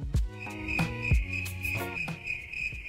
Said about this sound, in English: Like, we'll just install crickets right there.